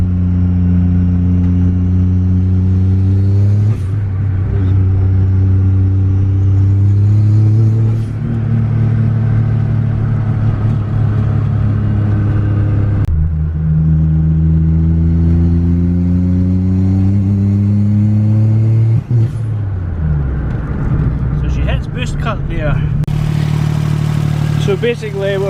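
The Daihatsu Mira Turbo engine, fitted with a new turbo and boost cut controller, revs repeatedly in loud, close sweeps. Each rise and fall of pitch is followed by a settle back to idle, and a final blip comes near the end.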